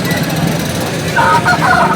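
Chickens cluck and call close by at a Sunday poultry market in Nellore, over a steady background hum, the calls rising briefly near the end.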